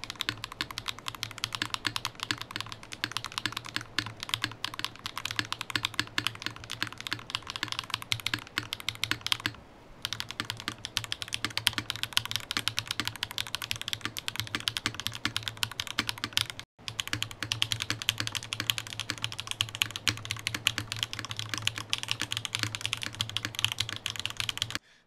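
Steady, continuous typing on an Artifact Industries LVL Type 1/80 mechanical keyboard, dense clacky keystrokes with a low hum underneath and two brief pauses.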